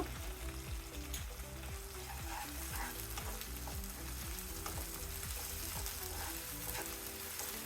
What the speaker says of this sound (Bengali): এক মিনিটের মতো কষিয়ে নেবো